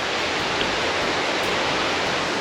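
River water near Bali waterfalls rushing in a loud, steady broadband wash, close and unbroken, with no voices.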